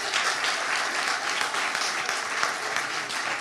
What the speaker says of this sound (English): Big round of applause for Benedict Allen